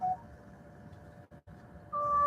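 A mobile phone goes off with thin electronic tones: a short beep, a steady faint tone with a brief dropout, then a louder tone near the end, with no talking.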